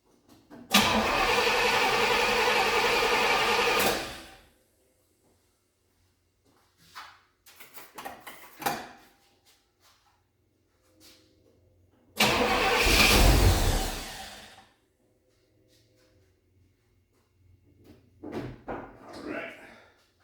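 A Pontiac Ventura with bad gas and a freshly replaced carburetor cranks and fires in two loud bursts, one at the start and one midway, each cutting out after a few seconds, with quiet shuffling and faint clicks between them.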